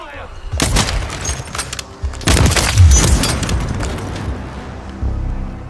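Gunfire in a Call of Duty Modern Warfare 3 multiplayer match, loud bursts of automatic fire and booming shots in several clusters, close and heavy, with a voice speaking briefly.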